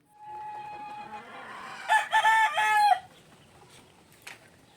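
Cockerels in a backyard crow loudly and close, with clucking and other fowl calls around them.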